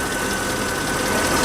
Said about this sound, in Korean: 저 벨트 돌아가는 거 보시고 벨트 이음 소리 없고요. 엔진 소리 참하고요.